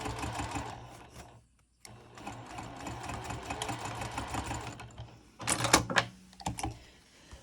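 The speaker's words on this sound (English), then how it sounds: "And then back stitch at the end." A sewing machine stitches and back stitches a seam on a double-pocket fabric wristlet clutch, making a steady rapid whirring run that stops briefly and then resumes, ending in a few louder, short bursts.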